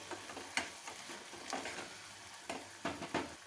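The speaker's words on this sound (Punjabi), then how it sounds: "ਹੁਣ ਅਸੀਂ ਟਮਾਟਰ ਨੂੰ ਚੰਗੀ ਤਰ੍ਹਾਂ ਪਕਾ ਲਾਂਗੇ" Quiet, soft sizzle of tomatoes cooking with Kashmiri red chilli in a pan, broken by a few sharp spoon scrapes and stirring knocks.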